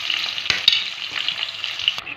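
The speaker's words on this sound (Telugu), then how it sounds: "ఉల్లిపాయలు అన్నీ వేసేస్తున్నామండి" Onions frying in a pan for chicken curry, a steady close sizzle with a few scraping spatula strokes.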